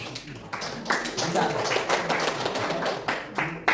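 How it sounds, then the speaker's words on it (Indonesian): Scattered clapping in a classroom during an Islamic studies lesson on the Quran, uneven sharp claps from a small group building up after a short start, with voices talking over them. "Beri tepuk tangan untuk Mbak."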